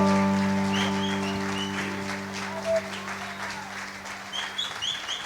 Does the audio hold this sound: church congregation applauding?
yes